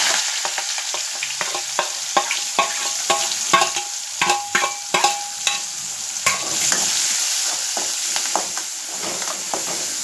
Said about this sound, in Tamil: வெங்காயம் வெட்டி வச்சுருக்கேன், போட்டுக்கலாம்.